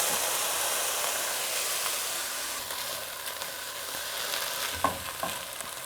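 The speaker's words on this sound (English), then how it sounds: "I've just added in just about half a tablespoon of olive oil, and I'm gonna add in the chickpeas." Chickpeas frying in a little olive oil in a pan on a stovetop: a steady, bright sizzle and hiss close up, with a few soft scrapes of stirring near the end, no talking.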